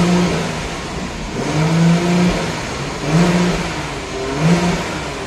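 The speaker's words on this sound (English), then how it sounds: "Set in the car, put on the brake, rev it." A Nissan R34 Skyline engine revs up in three or four separate surges in a showroom, each rising and falling back to a steady idle, close and fairly loud.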